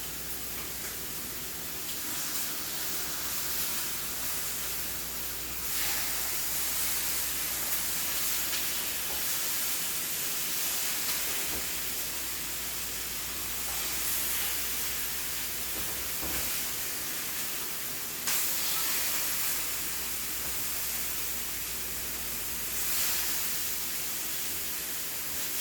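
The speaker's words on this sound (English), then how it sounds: "So I'm going to flip these pork chops." Pork chops for a maple glazed stuffed pork chop dish sizzle in a hot pan, a steady broadband hiss holding throughout with faint bumps and shifts as the chops are turned.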